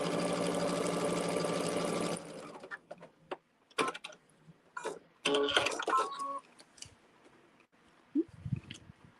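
A sewing machine runs steadily for about two seconds stitching a quilt block seam, then stops, followed by scattered clicks, fabric rustling and handling noises up close.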